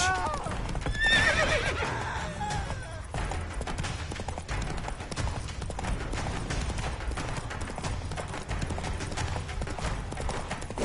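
In Witcher 3, a horse gallops with a rapid, steady clip-clop of hooves and lets out a sharp whinny near the start, while a voice speaks over the game sound.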